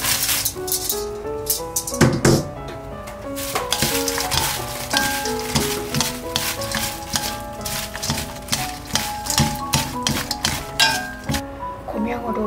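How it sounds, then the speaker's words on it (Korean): Dried anchovies are stirred into a just-boiled spicy seasoning sauce for a Korean side dish, with repeated clinks and scrapes of a utensil against the pan over background music. "이제 양념이 끓었으면 불을 끄시고 멸치를 넣어줍니다."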